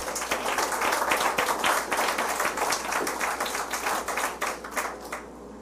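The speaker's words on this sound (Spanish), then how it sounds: "De un aplauso al Señor Jesús." A church congregation applauds together during a sermon, a steady mass of dense clapping that fills the room for several seconds before thinning out and stopping near the end.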